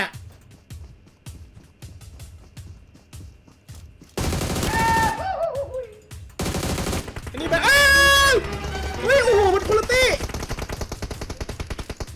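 Bursts of rapid gunfire in PUBG Mobile crackle loudly between stretches of quieter sound, with tonal game effects sweeping through the middle.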